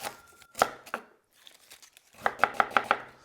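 A knife chops a quarter of an onion on a cutting board: a few separate close, crisp knocks, a short pause, then a quick run of five rhythmic chops.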